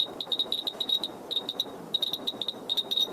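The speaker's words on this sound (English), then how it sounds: "A normal background radiation sounds like this." A Geiger counter picks up normal background radiation, giving a steady scatter of sharp, irregular clicks over a quiet hiss, close and fairly faint, with no voices.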